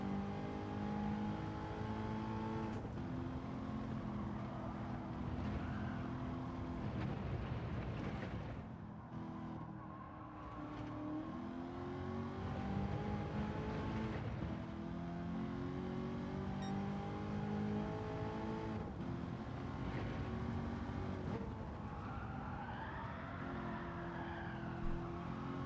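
Race car engine in a racing video game time trial, a steady loud drone whose pitch rises and falls through gear changes, with a brief dip as the throttle lifts before it climbs again.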